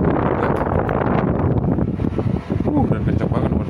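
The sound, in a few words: repaired electric fan running at speed setting 3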